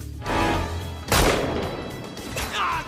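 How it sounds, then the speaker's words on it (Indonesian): A gunshot rings out in a yakuza film shoot-out scene, a sharp loud crack followed by a lingering rumble and echo, with further gunfire effects around it. "Namun tembakannya tidak mengenai Kamizono langsung."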